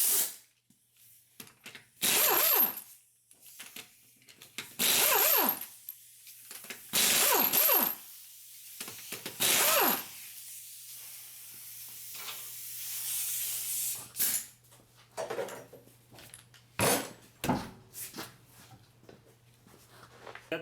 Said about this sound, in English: We're gonna remove the tire.